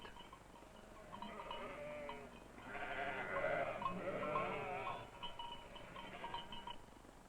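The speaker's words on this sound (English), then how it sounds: "In this part of Austria, we wash our sheep before they are sheared, so the wool will be clean and white." Sheep in Austria are washed before shearing. Several bleats rise and overlap at moderate distance over a faint, muffled background.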